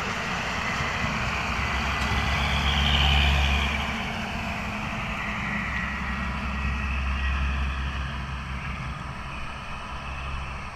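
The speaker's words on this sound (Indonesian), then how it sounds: "Nah, ini dump truck lewat ini telah menurunkan batu nih ya." A dump truck passes at a toll road construction site after unloading stone, making a broad low engine rumble that swells to a peak and then eases into a steady drone.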